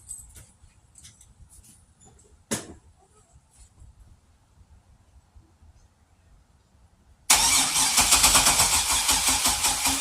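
A Pontiac Grand Prix GXP, bought abandoned and long sitting in a driveway, cranks after some quiet clicks and handling noises, then its engine fires and runs loud and steady up close.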